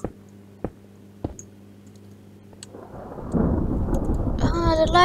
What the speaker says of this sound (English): Ah, the lightning's happening.